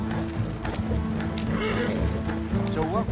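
Galloping horses in Red Dead Redemption 2 give steady clip-clop hoofbeats with snorts and a whinny near the end, mixed under character dialogue.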